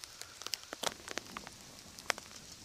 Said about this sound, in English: out there on the lake, it's windy and rainy